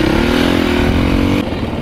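An enduro motorcycle labours through slippery clay mud, its engine droning loud and close with a wavering, slightly falling pitch before easing off near the end.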